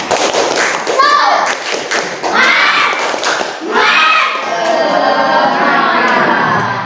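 A school class doing the 'tepuk semangat' clapping routine, rhythmic bursts of many hands clapping together in patterned beats, mixed with children's voices chanting along.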